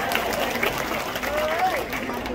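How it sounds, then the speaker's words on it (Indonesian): An audience at a mosque religious lecture applauds the organizers, with scattered clapping and crowd noise under a speaking voice. "Tepuk tangan dulu dong buat panitianya."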